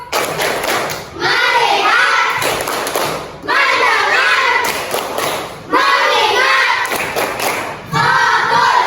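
A class of children does a rhythmic concentration clap chant in a classroom, with sharp bursts of group clapping alternating with loud unison chanting voices.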